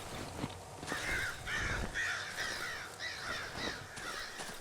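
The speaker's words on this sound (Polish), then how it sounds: "Kruki zapowiadają śmierć." Ravens caw over and over in the dark, eerie forest of the video game Darkwood. The harsh calls are fairly faint and layered over a steady ambient drone.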